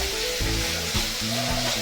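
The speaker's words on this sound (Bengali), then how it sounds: "মশলাটা অল্প একটু ভাজা হয়ে যায়" Mustard and turmeric spice paste for a rohu fish curry fries in hot oil with a steady, dense sizzle, broken by a few soft scraping stirs, close and continuous with no voices.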